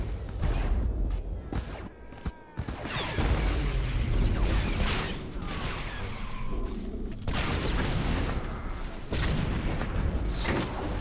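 Mortar fire in the Star Wars: The Old Republic (SWTOR) video game, as a Vanguard Trooper in a PvP Civil War match: dense, overlapping booms and blasts with whooshing impacts roll on steadily and loudly for the whole stretch.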